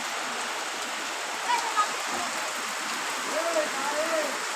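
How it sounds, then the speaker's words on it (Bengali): Steady rain pouring outdoors, a continuous broad wash of patter with faint background sounds and a couple of brief knocks, no clear voices over it. "সেই বৃষ্টি হচ্ছে"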